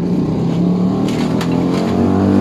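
A Rusi Royal GY6 scooter engine with a big-valve head, ported intake and 6.5 regrind racing cam revs loudly and steadily up close, a continuous throaty drone swelling slightly toward the end.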